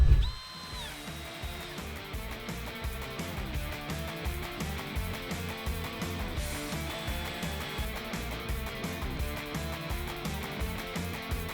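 Power screwdriver driving screws to fix a piano hinge onto a wooden storage chest built from reclaimed wood, a close whirring drill tone that rises and falls in repeated bursts over a steady background.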